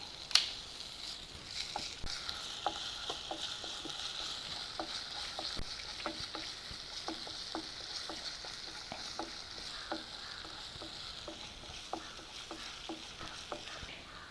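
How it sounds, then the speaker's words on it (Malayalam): Steady oil sizzle with scattered crackles and light stirring taps as crushed ginger and garlic fry in a pan, close and continuous throughout. "ഇഞ്ചിയും വെളുത്തുള്ളി ഒന്ന് ഫ്രൈ ആയി വന്നിട്ടുണ്ട്."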